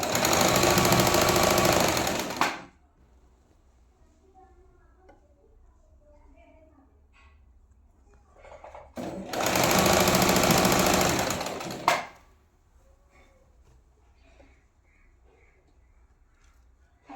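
A sewing machine stitches a folded palazzo hem in two loud, close bursts of a few seconds each, separated by quiet stretches with faint handling sounds.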